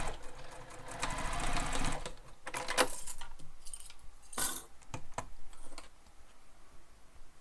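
A sewing machine runs in bursts as it stitches a fabric crossbody bag, with rapid mechanical whirring for about two seconds, then short stop-start runs and small clicks of handling in between, close and fairly loud.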